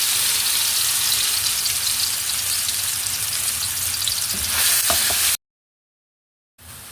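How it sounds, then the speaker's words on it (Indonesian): Ground spice paste with green chili fries in a little hot oil for a Padang-style tilapia and long bean dish, giving a steady close sizzle with a few faint clicks before it cuts to silence, then briefly returns. "Panaskan minyak sedikit untuk menumis, dan kita mau menumis bumbu yang udah kita haluskan tadi ya."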